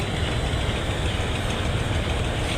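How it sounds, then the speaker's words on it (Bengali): Several passenger launch engines run hard with propellers astern, a loud, steady low rumble with a knocking diesel throb that continues without a break. "একসাথে প্রায় চারটি লঞ্চ একই সাথে প্রোপেলার পিছনে চালানো হয়েছে"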